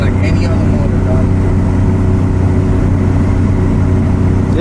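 A Toyota 2JZ engine swapped into a Mazda RX8, a loud, steady low drone heard from inside the car, with people talking over it.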